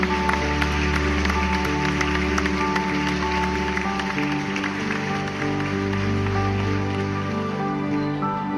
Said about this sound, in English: They kiss, and we hear the applause.